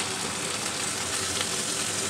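Prawns sizzle steadily in hot oil with garlic while Gourd leaves with prawns are being cooked, a dense, continuous frying hiss close to the pan with no talk.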